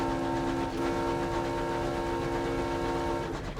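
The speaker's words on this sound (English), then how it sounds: "Each train has a different horn sound." A locomotive horn in the game Sunless Skies sounds as a sustained multi-tone blast over rumbling train noise, then cuts off near the end.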